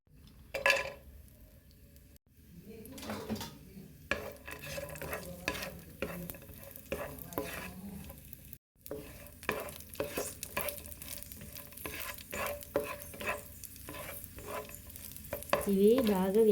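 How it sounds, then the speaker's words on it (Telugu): Cashews and raisins frying in a pan for rava kesari, with a steady crackling sizzle and repeated scraping stirs and light clinks of a spoon against the pan, close and fairly loud, with no talk. "ఇప్పుడు జీడిపప్పు కిస్మిస్ వేసుకొని ఇప్పుడు వీటిని వేయించండి."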